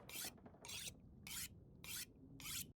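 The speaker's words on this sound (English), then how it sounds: "I ended day 3 by sharpening my knife" A knife blade rasped against a sharpening stone in a survival game, five even, crisp strokes in a regular rhythm, close and clear with no talk.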